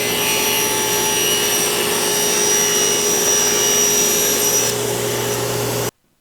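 A power saw trims wooden shelves to width for a bedroom storage bench, running as a loud, steady whine for about six seconds before stopping abruptly.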